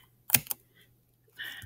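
Keys tapped on a computer keyboard while entering a staff login, a quick burst of two or three close clicks followed by a brief faint patter near the end, otherwise quiet.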